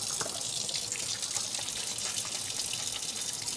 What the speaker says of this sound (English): Let me rinse my hands again.